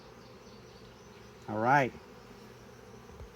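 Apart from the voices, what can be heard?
bees buzzing at a beehive during beekeeping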